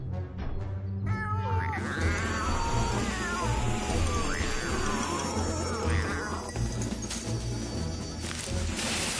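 Cartoon cats meowing and yowling in Transformers: Rescue Bots, several drawn-out wavering cries one after another, loud and close over busy background noise, then a clatter near the end.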